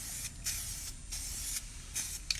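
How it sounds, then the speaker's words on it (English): Spray can of lacquer misting onto a glass surface in a series of short hissing bursts, about five sprays with brief gaps between them, close and fairly quiet. "Now, you'll notice I was also spraying it one direction."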